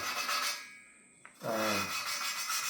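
Valve on a 1987 Porsche 911 engine lapped by hand with a suction cup and grinding compound: a soft gritty rubbing, a brief pause and click, then rasping resumes, close and quiet.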